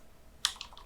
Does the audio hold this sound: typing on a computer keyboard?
yes